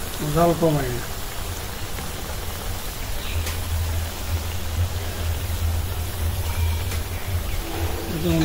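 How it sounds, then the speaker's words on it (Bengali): Potato fritters deep-frying in a pan of oil give a steady, rain-like hiss with low crackling underneath. A voice talks briefly at the start and again near the end. "আলু এইভাবে ভাজলে অবশ্যই ডুবা তেলে ভাজতে হবে।"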